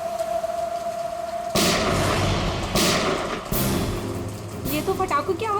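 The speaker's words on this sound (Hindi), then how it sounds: "ये कहीं गोली चली है।" Gunshots ring out in the rain in a TV crime drama: a steady rain-like hiss is broken by several loud, sharp bangs with ringing decay, spaced a second or so apart.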